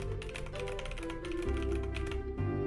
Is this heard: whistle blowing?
no